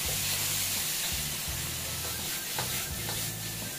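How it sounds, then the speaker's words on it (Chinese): Fish head and bones with ginger and pickled wild chilies frying in hot oil in a wok, a loud steady sizzle with stirring scrapes, close up, no talking. "再下入姜米、野山椒，给它炒出味道"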